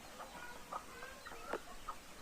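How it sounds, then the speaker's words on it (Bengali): Free-range village chickens cluck in short, scattered bursts, a few birds close by against a faint outdoor background. "সম্পূর্ণ দেশি মুরগি। দেখুন কতগুলো"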